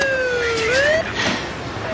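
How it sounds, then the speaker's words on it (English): An ambulance siren wails nearby with its pitch sliding up and down in a steady sweep, loud and clear over light background noise. "Look, Simone, the ambulance is right here."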